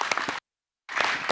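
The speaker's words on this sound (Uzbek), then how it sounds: "Qattiqroq qarsak chala olamizmi?" A crowd in a hall claps, one short burst of applause that stops abruptly and resumes after a brief silence.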